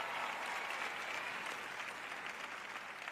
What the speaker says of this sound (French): Je vous applaudis.